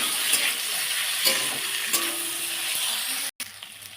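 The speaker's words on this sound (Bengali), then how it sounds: "ভালো করে কষিয়ে নিই" Spinach leaves and potato sautéing in a pan, with a soft continuous sizzle broken by the scrape and clatter of stirring, close by and moderately loud, briefly cutting out near the end.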